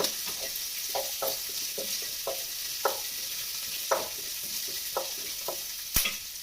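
Garlic and curry leaves frying in a hot pan give a steady close sizzle, with scattered crackles and pops and one sharp louder pop near the end.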